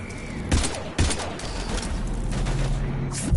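Heavy gunfire in the video game Mass Effect Legendary Edition: sharp blasts and a sustained volley of shots, loud and near, over a rumbling battle background.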